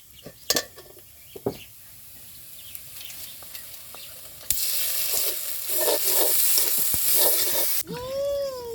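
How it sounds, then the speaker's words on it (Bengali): Fried onions meet ginger-garlic paste in a pan while cooking baim fish. A few spoon knocks come first, then a loud, close sizzle swells up as the paste hits the hot oil and runs for several seconds before cutting off. "পেঁয়াজটা আমার ভাজা ভাজা হয়ে গেছে, তো আমি এখন আদা আর রসুন বাটা দিয়ে দিব।"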